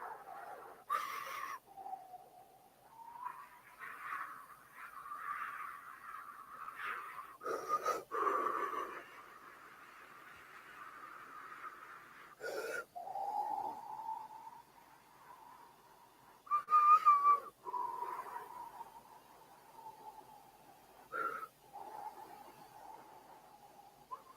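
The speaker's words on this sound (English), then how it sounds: "Relax, breathe aloud." A group of people in a guided meditation breathes aloud, with long, drawn-out exhalations and wheezy, whistling sighs that rise and fade in slow waves. Sharp snort-like breaths break in now and then. No one speaks.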